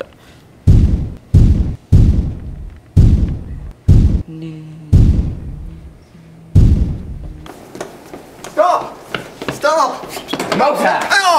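Video game explosions land as a rapid series of loud, heavy thuds with low booms, each one sharp and quickly fading. Excited voices and game sounds take over afterwards.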